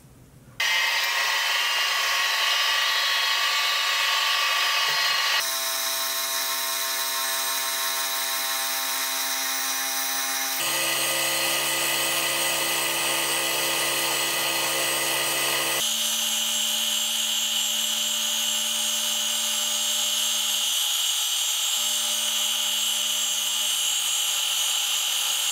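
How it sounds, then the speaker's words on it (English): An end mill on a milling machine cuts a slot down the middle of a rod, giving a loud, continuous whine with a shift in pitch every few seconds, without talk. "The final thing I need to do is cut a slot down the middle of the rod."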